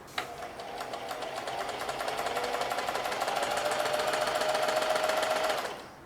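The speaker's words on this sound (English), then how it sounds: "right now all I want to do is see if in fact this wonderful machine is going to work" A Singer HD44S heavy duty sewing machine runs continuously at a steady, rapid stitching rhythm, loud and close, with a mechanical whir and rattle that starts abruptly and stops near the end.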